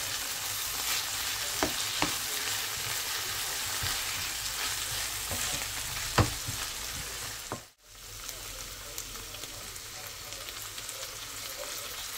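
Meat sizzling in a hot pan, a dense, steady crackle throughout with a few louder pops and one brief dip in the middle.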